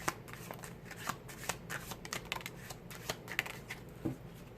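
Tarot cards are shuffled and drawn by hand, giving a soft, close, continuous flutter of sliding cards with small snaps. It is quiet, with no talking.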